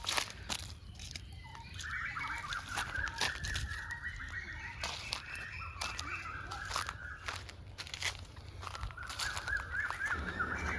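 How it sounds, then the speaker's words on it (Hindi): Birds calling in a village orchard, a koel among them, with repeated clear calls rising and falling over a steady outdoor background and scattered sharp knocks throughout. "कोयल सबके आवाज सुनै छियै, कोयलो बजि रहल छै।"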